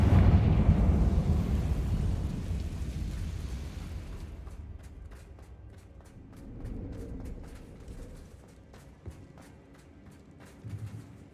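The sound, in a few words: explosions from Bombarda and Confringo spells in a video game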